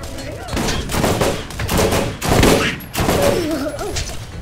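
Gunfire from a Dahl weapon in Borderlands, bursts of loud close shots in several volleys separated by short gaps, with a tonal game sound mixed in.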